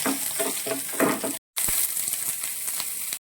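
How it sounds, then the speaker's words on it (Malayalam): Grated coconut fries in hot oil for beef kandhari, sizzling steadily while a spoon stirs it with light clinks. A brief gap of silence falls midway before the sizzle returns, and nobody speaks. "തേങ്ങ നന്നായിട്ട് ഒന്ന് ഗോൾഡൻ ബ്രൗൺ ആവുന്ന വരെ നന്നായിട്ട് നമുക്കൊന്ന് ഇളക്കി കൊടുക്കാം"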